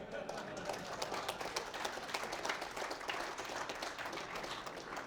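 An audience claps after a demonstration of a pseudosphere uphill roller, dense, even applause at a low level, with some voices mixed in.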